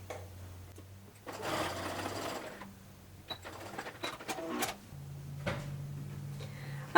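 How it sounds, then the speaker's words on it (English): A sewing machine stitches a half-inch seam on a stuffed fabric phone pillow holder, running in short bursts of motor hum with pauses, small clicks and handling noises between runs. "Now I'm gonna sew those together with a 1/2" seam allowance."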